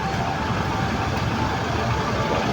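Road traffic on a busy Philippine highway, trucks and cars giving a constant low engine rumble and rolling road noise, close and dense with no distinct pauses.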